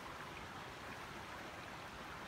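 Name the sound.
river flowing near a path in the south of France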